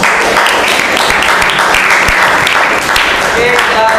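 A ninth-grade class at a school presentation applauds after a group finishes presenting, loud, dense clapping from many hands sustained close by, with some voices mixed in.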